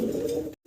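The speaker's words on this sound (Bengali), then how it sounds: "আরো সুন্দর এক জোড়া কবুতর দেখাচ্ছি" Fancy pigeons coo in a low, throaty burst held close for about half a second, then cut off abruptly into silence.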